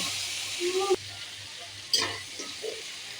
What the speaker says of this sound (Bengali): কমপক্ষে পাঁচ মিনিট আমি মশলাগুলো ভেজে নেব